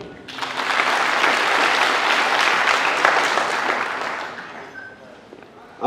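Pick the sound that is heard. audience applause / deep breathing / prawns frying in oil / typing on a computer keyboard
audience applause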